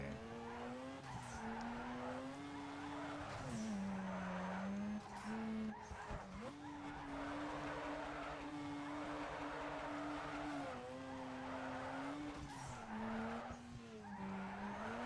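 A tuned Mazda RX-7 drifts in Need for Speed Underground 2, its engine droning continuously with wavering pitch under steady tire squeal and skidding across the whole stretch.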